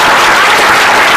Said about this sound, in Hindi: ताली बजाओ के एक बार बजाओ